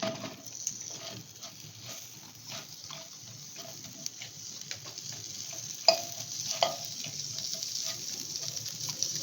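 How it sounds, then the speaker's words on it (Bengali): Okra sizzles steadily on a very hot pan while being stirred, a constant frying hiss with occasional scraping strokes and small pops, close and without speech. "খুব গরম তাওয়ার মধ্যে আমি এটা একটুখানি নেড়ে নিচ্ছি"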